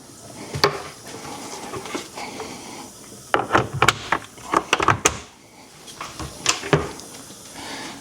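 Cabinet door being refitted beside a newly installed GE dishwasher: a series of sharp wooden knocks and clatters, sparse early then clustering into quick bursts midway, close and fairly loud with quiet gaps between.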